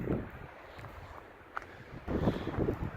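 Gusty wind at a scenic overlook in Mueller State Park, Colorado, buffeting the microphone in low rumbling surges, fairly faint with a stronger gust toward the end.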